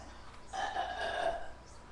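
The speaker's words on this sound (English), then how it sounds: "And she burped again." A woman lets out a single short, low burp lasting about a second amid quiet surroundings, during a playful burping contest.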